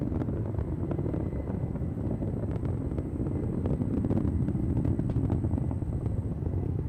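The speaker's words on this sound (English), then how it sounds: "The BE4 is now throttling down in preparation for SRB burnout." A Vulcan rocket climbing on its BE4 engines and solid rocket boosters: a continuous, distant, low rumbling roar that holds steady throughout, with no voices.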